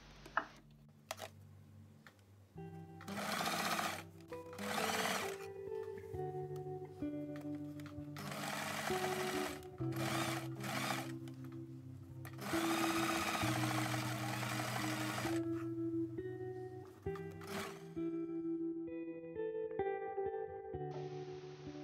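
A sewing machine stitches pompoms onto a shrug made from a dupatta, running in repeated short bursts of rapid clatter separated by pauses, close and fairly quiet with no talk.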